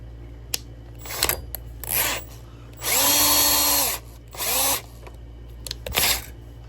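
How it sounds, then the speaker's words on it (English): A handheld power drill runs in several bursts, the longest about a second, with a rising whine as the motor spins up and slows, interspersed with clicks and handling noises. "Just take this drill."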